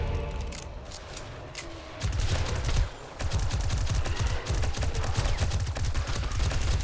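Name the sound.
gunfire from the video game 7 Days to Die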